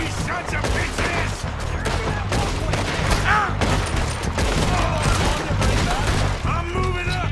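Sustained gunfire rattles through a Red Dead Redemption 2 shootout, dense overlapping rifle and pistol shots in rapid bursts with no pause, loud and close, with occasional shouting voices mixed in.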